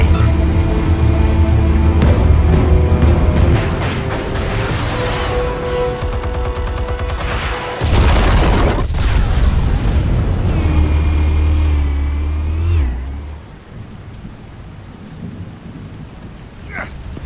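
An explosion in the Telltale Batman video game makes a loud, heavy roaring rumble with crackling debris that holds for several seconds, surges again midway, then fades to a quieter hiss.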